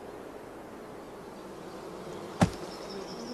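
Honey bees clustering around a caged queen to form a swarm give a faint, steady background hum, with one brief sharp knock or tap partway through.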